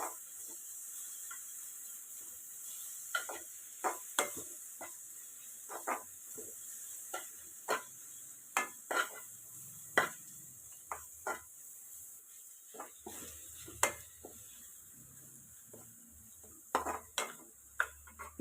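Crushed garlic, ginger and dried chillies sauté in a pan with a quiet, steady sizzle, punctuated by repeated sharp scrapes and taps of a spoon stirring against the pan.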